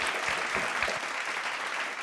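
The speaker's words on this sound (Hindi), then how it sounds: "एक बार जोरदार तालियां हमारी चारों टीम्स के लिए" Audience at a school quiz show finale claps loudly and steadily for the four competing teams, a dense continuous wash of applause with no voices.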